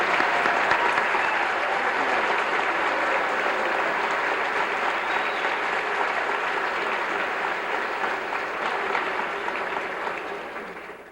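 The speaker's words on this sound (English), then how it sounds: "Let's give a round of applause." An audience at a senior awards night applauds the class of 1998 with sustained, even clapping from a large crowd that fades slightly at the close.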